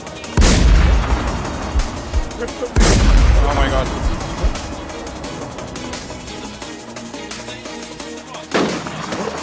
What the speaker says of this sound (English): another blader shooting at me now